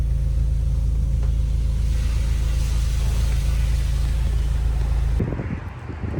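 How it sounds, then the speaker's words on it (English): An automatic touchless car wash sprays a Honda DC5 with high-pressure water and no brushes. A steady, loud hiss and rumble of spray runs without a break, then drops off suddenly near the end, with no voices. "there's nothing touching the car or anything, so it's just spray."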